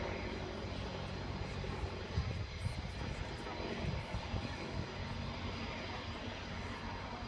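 A military helicopter flies at the Farnborough Airshow, its engine and rotor noise forming a steady, loud, broad roar that continues throughout with slight fluctuations.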